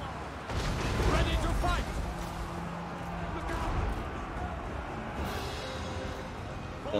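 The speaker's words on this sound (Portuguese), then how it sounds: "Ó o canhão!" Cannon fire from an Empire (Wissenland) army defending a hill in the video game Total War: Warhammer III: heavy booming blasts and rumbling battle noise throughout, with a voice talking over the din.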